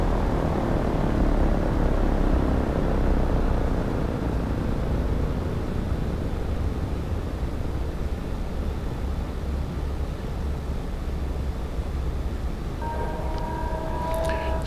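A Douglas DC-3 propeller plane taxis in the X-Plane 12 flight simulator, its loud, steady engine drone and propeller rumble continuous throughout, with faint tonal cockpit beeps near the end.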